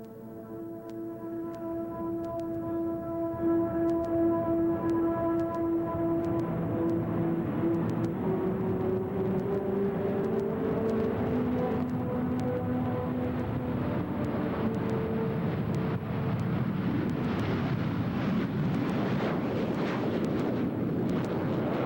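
An F-14 Tomcat at a 1987 airshow with twin Pratt & Whitney TF-30 turbofans roars on takeoff. A whining engine tone slides lower as a broad, loud rushing roar builds and holds, heard from a distance outdoors.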